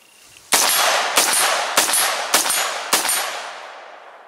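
A Pro2A Tactical fighting rifle fires five loud, evenly spaced shots at a steel target 100 yards away, each crack trailing off into a ringing outdoor echo.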